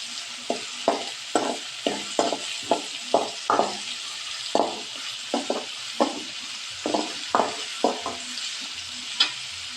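Green beans are stir-fried in a pan for a village-style palya. A spatula scrapes and tosses them in quick, regular strokes over a constant close sizzle.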